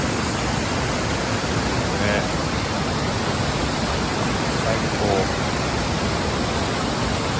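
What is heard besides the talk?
Ryujin waterfall (Dragon God Falls) in Nakatsugawa, Gifu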